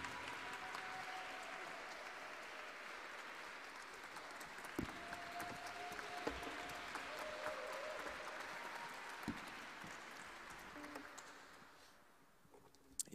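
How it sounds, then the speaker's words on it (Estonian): Sustained applause from a congregation fills the Oleviste church, a dense, even wash of many hands clapping with a few louder claps, fading out near the end. "Ma arvan, et nad on väärt veel ühte aplausi."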